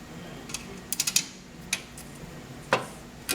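A ratchet clicks in short bursts as two nuts are snugged down on an insulation support bracket during a probe replacement, faint taps spaced out with quiet gaps between.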